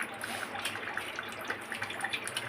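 Water runs from a kitchen tap in a faint, continuous trickle with small irregular splashes and drips, heard alone and fairly quiet.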